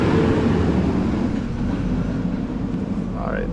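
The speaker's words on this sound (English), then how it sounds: "that tow truck made a lot of noise." A tow truck passes close by on a street, a loud low rumbling roar that starts heavy and slowly eases off over a few seconds.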